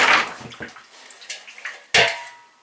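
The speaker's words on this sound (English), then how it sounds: "do you hear this water? That's inside the tank." Water sloshes inside a failed pressurized well tank, a few hollow splashing surges that swell and fade over a couple of seconds, close and moderately loud.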